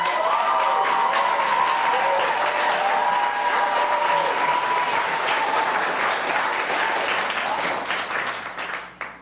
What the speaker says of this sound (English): let's have a little cheer off now